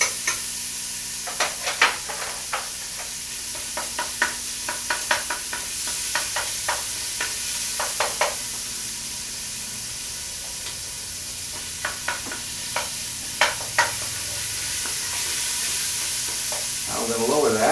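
Salt pork sautés for tomato sauce in a home kitchen, a steady soft sizzle under a rhythmic series of clicking, scraping stirs of a utensil against the pan.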